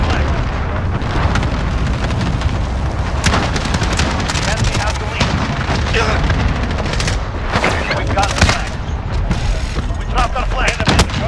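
Cruise missile strikes and a barrage of repeated explosions and booming gunfire fill a chaotic video game battle, loud and close, with announcer callouts speaking over the din.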